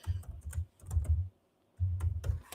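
Bursts of computer keyboard typing during an Amazon search, close and fairly loud, in two runs of rapid key clicks separated by a short pause, with no voices.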